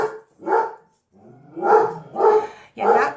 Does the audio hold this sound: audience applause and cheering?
no